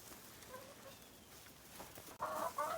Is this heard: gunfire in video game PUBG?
no